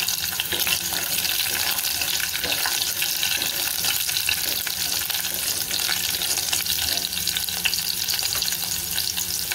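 Chopped green chillies sautéing in hot oil in a pan for a three-lentil dal, with a loud, continuous close sizzle and crackle and no talk.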